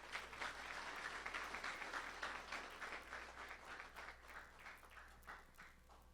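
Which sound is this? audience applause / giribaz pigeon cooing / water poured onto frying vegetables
audience applause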